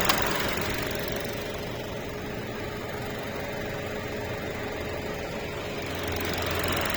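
A Hyundai Stargazer engine with a misfire runs steadily at idle, a constant low mechanical hum with a faint ticking texture, heard up close with no talking.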